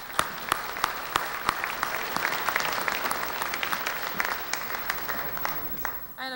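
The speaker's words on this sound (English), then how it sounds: "So please, a round of applause" Steady applause from a crowd at a faculty convocation, dense clapping with sharper individual claps standing out, continuing for several seconds before cutting off.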